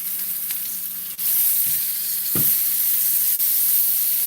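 Lamb shanks browning in a hot pan give a steady, close sizzle and hiss, with a few brief pops and shifts as the meat is moved. There is no talking.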